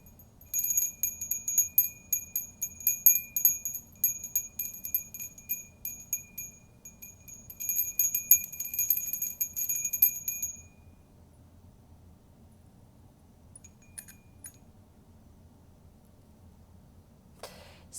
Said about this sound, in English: I'm just going to clear with a bell